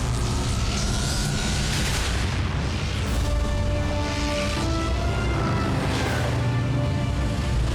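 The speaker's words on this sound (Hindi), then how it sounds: "वो धमाका किसने किया?" Heavy booming blasts and rumbling explosions fill a scene of the Transformers Prime cartoon, dense and continuous with layered crackling debris and no speech.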